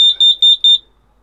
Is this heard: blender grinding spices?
no